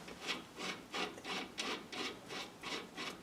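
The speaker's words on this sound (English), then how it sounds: "tighten this jam nut down." A wrench tightens the tie rod jam nut on a 2001 Ford Explorer Sport Trac, making close, steady rasping strokes, about eight evenly spaced scrapes in just over three seconds, with no talking.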